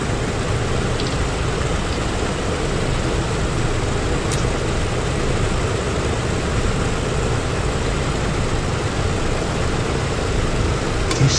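Douglas DC-6 engine number one running in a flight simulator, a steady droning hum with even texture throughout and no speech over it.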